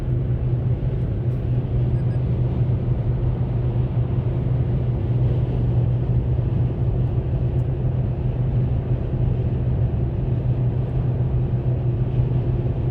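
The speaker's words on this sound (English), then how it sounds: "You can hear the engine working." A car engine strains steadily while climbing Parleys Summit on Interstate 80, a low, constant drone with road rumble, moderate and unbroken throughout.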